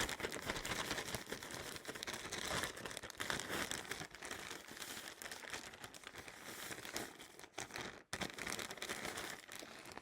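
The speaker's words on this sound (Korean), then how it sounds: "이제 이 가루 재료들이 먼저 잘 섞일 수 있도록 이제 액체가 들어가기 전에 충분히 흔들어 주셔야 돼요" Dry powdered ingredients for an aromatherapy wellness blend are shaken hard inside a sealed plastic zipper bag, giving continuous dense crinkling and rustling with steady loudness for ten seconds and one brief pause near the end.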